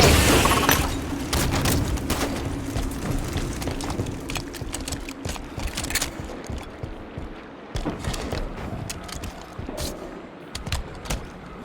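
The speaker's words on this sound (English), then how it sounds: "Tossing grenades." Grenade blasts and gunfire in Halo 5: Guardians combat against Promethean enemies, a dense run of sharp bangs and booms over a steady low game hum, loud and close throughout.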